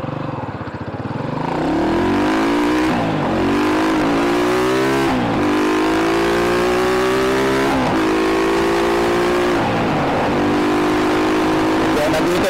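A Rusi motorcycle revs hard up through successive gears, each climbing whine cut short by a shift, before settling into engine braking; loud and close throughout.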